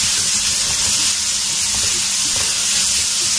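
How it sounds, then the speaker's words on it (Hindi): Taro root (arbi) frying in a pan with salt gives a loud, dense, continuous hiss and sizzle up close, steady throughout with faint clatter underneath and no speech. "इसको थोड़ा फ्राई करूंगी"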